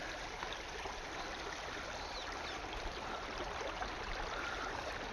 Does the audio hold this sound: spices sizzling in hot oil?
no